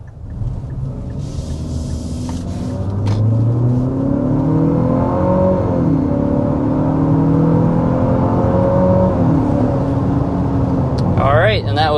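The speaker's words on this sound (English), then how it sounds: "we need to show you what this engine is like under a hard acceleration" A 2025 Infiniti QX60 engine pulls hard under full acceleration to 60 mph, a loud rising drone with shifting engine tones building steadily over a dozen seconds, with a brief metallic clatter near the end.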